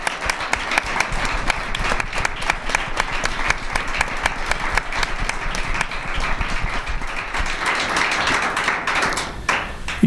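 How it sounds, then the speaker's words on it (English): A seated audience at a university gymnastics coach's retirement press conference gives a sustained round of applause, dense steady clapping lasting the whole stretch with no voices over it. "Please give them a big round of applause."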